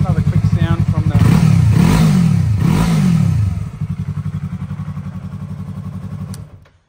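A 2017 Yamaha R3 motorcycle engine revs in a few quick, sharp bursts with rising and falling pitch, close and loud, then drops back to a rough, pulsing idle before cutting off.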